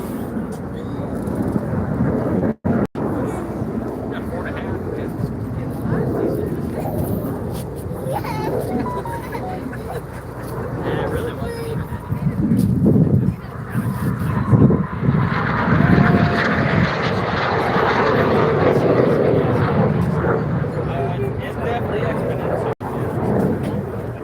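An RAF Red Arrows BAE Hawk jet trainer pulls a hard 6G left-hand turn at an air show, its engine roar building to a broad, steady rush in the second half, with wind buffeting and commentary over it.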